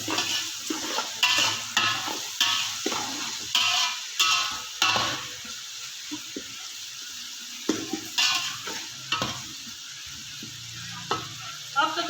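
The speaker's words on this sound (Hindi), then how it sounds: "6-7 मिनट मज़ीद इसकी भुनाई करेंगे" Potatoes, peas and tomatoes being sautéed in pulao masala in a pan, with repeated spatula knocks and scrapes against the metal over a soft continuous sizzle, close up and without speech.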